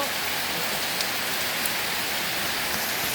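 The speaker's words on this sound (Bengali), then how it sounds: "দুই ঘন্টার মতো হলো বৃষ্টি হচ্ছে।" Steady heavy rain falls through the night onto flooded ground, a continuous broad hiss that stays close and even throughout, with no talking heard over it.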